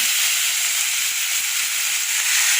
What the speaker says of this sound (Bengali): এই কড়াইতে তেল দিয়ে দিই, তেল গরমও হয়ে গেছে। চলো মাছগুলো ভেজে নিই